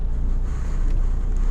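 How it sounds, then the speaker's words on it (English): Truck engine idling to build up air pressure, a steady loud low rumble with a faint windy hiss, heard up close and alone. "started the engine for as short a period as possible to get the air built up so I can get out of the way and move"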